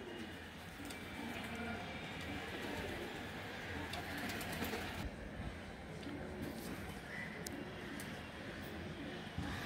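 A pair of Giribaz high-flyer pigeons coo softly amid a steady, noisy background wash, the calls faint and partly buried, with scattered clicks and rustles.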